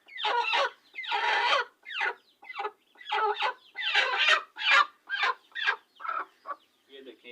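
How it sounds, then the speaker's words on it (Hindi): A broody Misri hen clucks and grumbles in repeated bursts while being settled onto a clutch of chukar partridge eggs, close and fairly loud with short pauses between calls. "ये आपके सामने मुर्गी को बिठा रहे हैं।"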